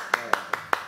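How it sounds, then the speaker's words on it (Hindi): A single person claps hands four times at an even, unhurried pace, each clap sharp and close in a quiet room. "मैं आपके लिए तालियां बजाता हूँ।"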